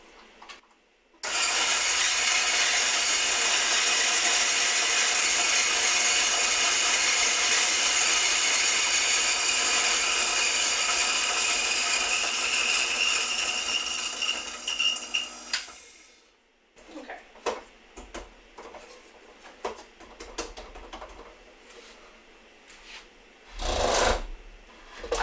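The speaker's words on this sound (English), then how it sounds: "French press grinder is set for a much more coarse grind than my satay," Burr coffee grinder set coarse for French press, a loud, close, steady grinding whir for about fifteen seconds that stops abruptly, followed by scattered clatter and light handling noises.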